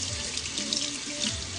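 Water pours steadily from a kitchen tap into a sink as bleach water is run, making a continuous, close, full rushing splash with no voices.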